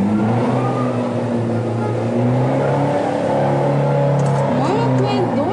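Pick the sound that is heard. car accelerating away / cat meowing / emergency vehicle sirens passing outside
car accelerating away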